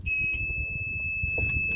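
A Mercury 40 HP two-stroke outboard engine's warning alarm gives a steady, high-pitched electronic tone that holds without a break over low rumbling background noise.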